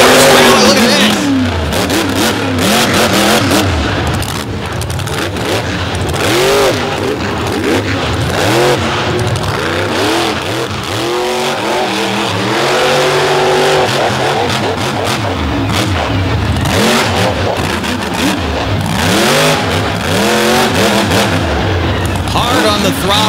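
A monster truck with a Ford Motorsports trailer and Freightliner rear end roars at full throttle at a Brooksville monster battle, its engine revving hard and continuously on landing, loud and close with a commentator talking over it.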